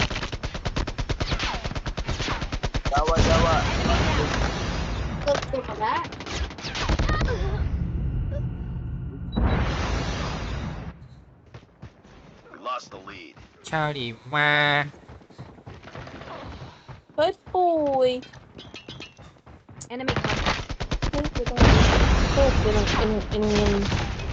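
Rapid automatic gunfire from an AK-47 in the mobile shooter Call of Duty Mobile, loud, dense bursts that come and go across the clip, with quieter gaps and a voice talking in between.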